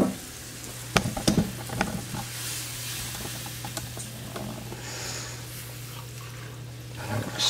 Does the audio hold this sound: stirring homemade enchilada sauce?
yes